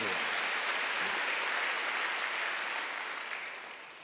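A church congregation claps steadily in a dense wash of applause, loud at first and then gradually tapering off.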